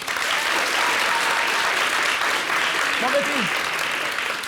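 Steady audience applause fills the whole stretch, dense and even, with a brief voice surfacing faintly near the end.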